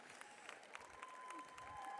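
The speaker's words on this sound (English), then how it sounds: "give these guys, this coaching crew, a big round of applause" Faint, distant applause for a coaching staff at a 2015 athletic awards ceremony rises slightly in a short burst of clapping from the crowd.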